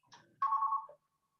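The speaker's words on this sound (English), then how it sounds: "That's my phone ringing." A phone rings with one brief electronic tone burst, clear and close in an otherwise quiet room, with no talking.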